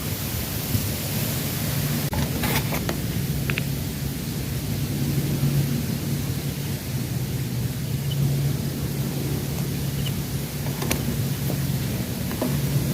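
Steady, dense rain hiss by a small stream, with a low rumble underneath, continuous throughout with a few faint clicks on top.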